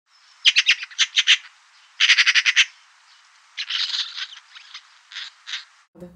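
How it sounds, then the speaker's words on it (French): Eurasian magpie in a park or garden setting chattering in rapid dry rattling bursts, a quick run of clicks, then a denser burst, followed by softer scattered calls, close and with no voices. "un oiseau extrêmement commun, très fréquent en ville, la pie bavarde"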